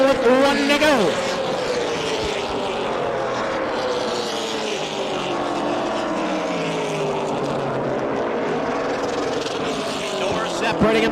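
Super late model race cars roar around a track at a Tundra series last chance race, a loud sustained engine drone with pitch sweeps as cars pass, under a commentator's voice.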